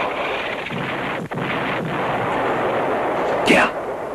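Artillery shelling rumbles in a 1960s TV war drama, a dense, roaring barrage with booming impacts under wind-like noise and a rising whistling shriek near the end, while voices speak over it.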